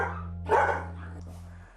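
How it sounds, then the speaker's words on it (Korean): A Shar Pei barks fiercely at a visitor indoors, one loud, close bark over a steady low hum. "외부인이 방문하면 목청이 터져라 맹렬하게 짖어댔던"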